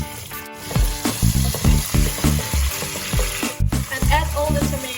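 Garlic and green pepper hit hot oil with a loud close sizzle, broken by bursts of stirring and scraping in the pan, one brief dropout midway, and no voices.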